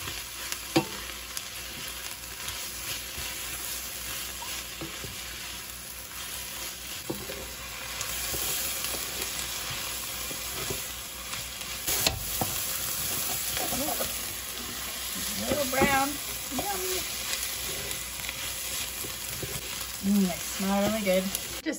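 Ground beef frying in a pan, a steady broad sizzle with occasional stirring scrapes and brief pops, close and continuous, with faint talk in places.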